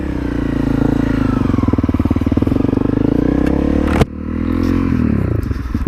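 A small Honda CRF motorcycle rides a forest track in the Three Lochs area, its single-cylinder engine loud and close with a rapid, pulsing throb. Gravel crunches under the tyres, and a sharp knock near the four-second mark briefly breaks the sound.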